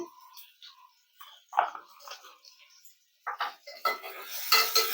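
Green chillies and turmeric are stirred in a frying pan with short, intermittent metallic scrapes and clinks of a spoon, separated by brief pauses, building into a denser sizzling scrape near the end.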